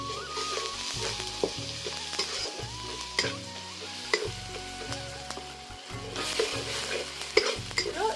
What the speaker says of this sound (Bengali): একটু নাড়িয়ে আমি জল দিয়ে মশলাটাকে ভালো করে কষিয়ে নেব।